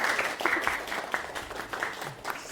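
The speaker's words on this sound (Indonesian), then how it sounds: "Tepuk tangan buat Dewi" A classroom audience claps together, a dense patter of many hands held steadily for a couple of seconds at moderate distance, with some faint voices mixed in.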